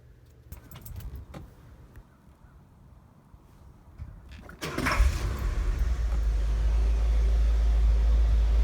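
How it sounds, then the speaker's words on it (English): Keys jangle near the ignition of a 1972 Mark IV with a 460 V8 big block and Autolite 4300 carburetor, then the engine cranks, catches and settles into a loud, deep, steady idle on a morning start. "let's start it up and take a listen to the sound of a big block in the morning"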